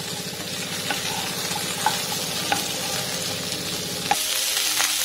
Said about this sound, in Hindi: फ्लेम को हाई करके 2 मिनट मैंने इसको स्पून चलाते हुए पकाया।